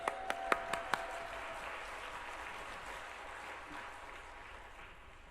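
A church congregation at a revival meeting at Osanri fasting prayer retreat claps to welcome the preacher: a few distinct loud claps at the start, then a soft, sustained round of applause from a distant crowd.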